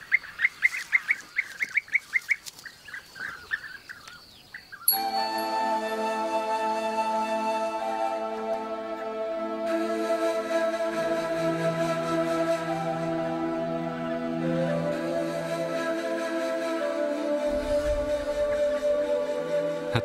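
Courting birds in Bulgaria quarrel without pause, with a few sharp calls giving way to a dense, continuous chorus of loud, overlapping harsh honking and chattering that stays close and steady throughout.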